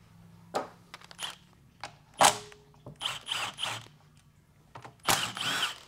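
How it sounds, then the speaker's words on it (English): A 10 mm socket wrench loosens the bolts on a 6L80E transmission pan, giving short bursts of ratcheting clicks and metallic rattles with pauses between them, close by in a quiet garage. "I'm gonna grab a 10 millimeter socket."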